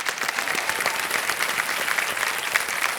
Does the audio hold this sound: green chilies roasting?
no